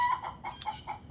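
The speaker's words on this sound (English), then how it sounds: "right now you can see all of my chickens are kind of gathering in the corner" Backyard chickens in a winter flock cluck in short, close, repeated bursts, several calls overlapping in quick succession with no voices.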